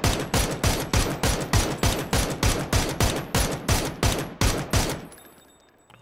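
An AUG rifle in the battle-royale game PUBG fires a long, rhythmic string of loud single shots at an even pace, about a dozen in five seconds, then stops and leaves a faint tail, with no voices.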